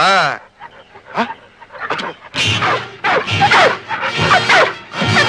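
Three hunting dogs barking in a film scene, a few sharp barks and yelps standing out loud and close among stretches of talking and other film sound.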